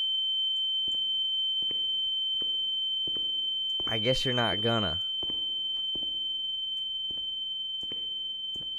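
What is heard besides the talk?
ear ringing tone effect in video game The Town of Light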